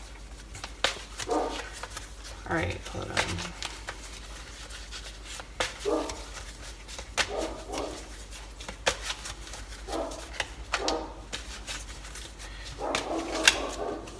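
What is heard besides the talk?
dog barking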